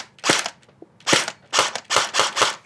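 PP-19 Bizon submachine gun firing five sharp shots in an uneven series, the first two spaced apart and the last three in quicker succession, close and crisp with no talking.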